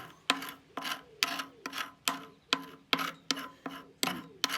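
A scraper stripping old layers of paint off a metal K6 telephone box, about ten rhythmic rasping strokes in steady succession, close and clear.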